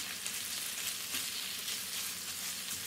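Marinated chicken sautéing in a hot pan, a steady, even sizzle and frying crackle holding at a constant level throughout, with no voices.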